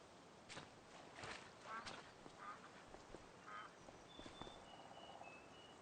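Ducks quack faintly in the Farming Simulator 25 game world, a few short, scattered honking calls over soft footstep-like background noise.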